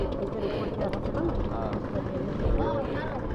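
A boat ride carries a constant low rumbling engine drone and wind buffeting, with muffled voices talking faintly underneath throughout.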